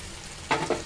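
Okra frying in a hot pan sizzles in two short, loud bursts over a steady low crackle, close up and with no talking.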